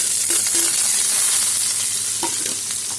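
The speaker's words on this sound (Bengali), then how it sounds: "এখন কুচি করে রাখা পেঁয়াজ দিয়ে দিলাম।" Finely chopped onion frying in hot oil in a pan, a loud, dense close sizzle with stirring scrapes and a couple of brief clinks of the utensil.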